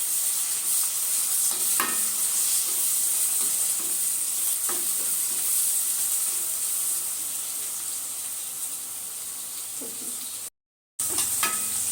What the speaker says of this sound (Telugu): ఇప్పుడు మసాలా టమాటా వేస్తున్నా ఒక చిన్న టమాటా